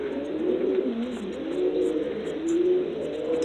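Domestic pigeons in a Cuban pigeon loft coo in low, rolling, repeated phrases, close and steady, with faint chirps above and no talking.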